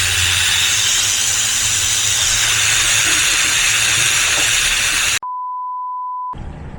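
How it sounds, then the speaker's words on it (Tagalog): Loud, continuous hissing of steam forced from a pressure cooker holding pork for Ilocos bagnet, running steadily before cutting off abruptly, followed by a short steady beep. "we're gonna release the pressure"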